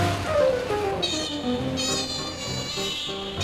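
A baby otter named Hetnim gives repeated high, thin, pitiful cries that rise and fall in pitch, close and fairly loud over faint room noise.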